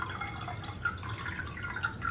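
Water mixed with Super Thrive pours and trickles into an opaque container for plant cuttings, a quiet, close, uneven splashing with small drip-like accents and no voices.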